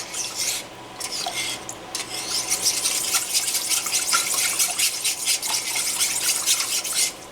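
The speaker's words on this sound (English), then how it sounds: "Add the sour cream. And I'm going to whisk that till smooth," A whisk scrapes and swishes sour cream into a sauce for smoked pulled pork macaroni and cheese, quick rhythmic rasping strokes against the pan, close and steady, with no talking.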